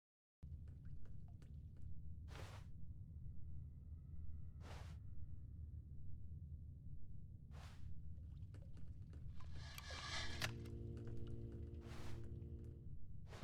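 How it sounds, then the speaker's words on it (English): Rushing water from The Stanley Parable: Ultra Deluxe, a steady low roar that rises in a few brief swells before a louder, splashier surge near the end. "I heard some water."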